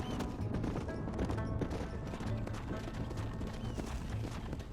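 Horses galloping in the video game Red Dead Redemption, a continuous dense drumming of hooves with heavy rumbling, steady and fairly loud, no speech.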